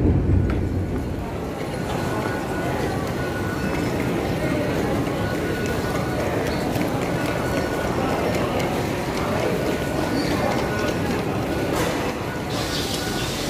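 Continuous rumble and clatter inside a moving train from Zhongli to Taoyuan, Taiwan, steady throughout, with faint voices in the background.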